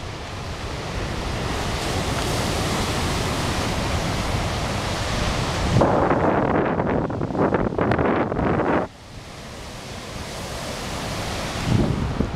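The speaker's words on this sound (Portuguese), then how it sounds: "O mar está agitado." Rough sea waves at Praia da Fragosa in Aver-o-Mar, Póvoa de Varzim, under a dark, overcast sky: a steady, loud roar of surf with gusty wind noise and a stronger crashing surge midway, no voices.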